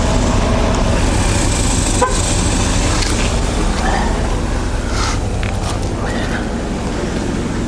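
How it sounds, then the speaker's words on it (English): The horn of a Chevrolet Silverado or GMC Sierra pickup, sounded while programming its tire pressure sensors: a loud, close honk that holds steadily throughout over broad background noise. "You heard the horn honk."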